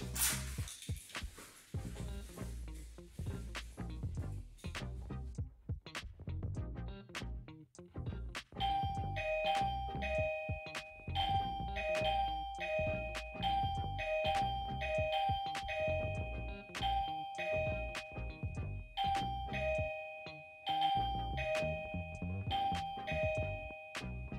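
A wireless electronic doorbell plays a repeating ding-dong melody over and over, bright and tonal, after a stretch of rustling and handling noise.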